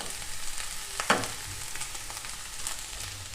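Capsicum, cabbage and other vegetables sizzle in a pan for a chicken bread roll filling, with a steady crackling fry and a single louder scrape of stirring partway through, no talking.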